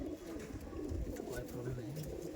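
An Andhra Madrasi pigeon gives a steady low cooing near at hand, a rolling throaty murmur with a few pitch dips, while a voice talks faintly alongside.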